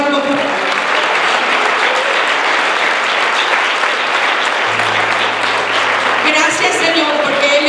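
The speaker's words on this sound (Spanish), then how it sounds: "Give him a round of applause." Loud, sustained applause fills a church as the congregation claps for the Lord, dense and continuous, with a low hum and some voices emerging near the end.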